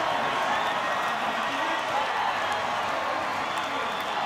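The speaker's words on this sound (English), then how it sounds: "The cheer girls aren't the only ones standing and applauding." Stadium crowd at a 2011 rugby league match, Wests Tigers against Canberra Raiders, applauding and cheering in a steady, dense roar that fills the whole stretch, with a commentator's voice blended underneath.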